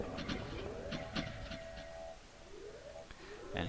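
A freight train delivering fuel in Factorio, with a rumbling rolling drone, soft tonal chimes and whirs, and a few clicks as the cars move, moderately quiet and without talk.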